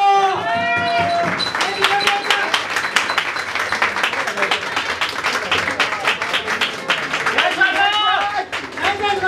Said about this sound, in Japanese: 皆さん、お二人の大きな拍手を。